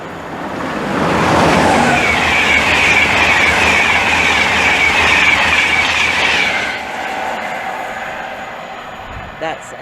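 A train passing Hitchin station on the East Coast Main Line roars loudly past with a sustained rushing, hissing rumble and wheel clatter for several seconds, then fades away, leaving quieter platform ambience.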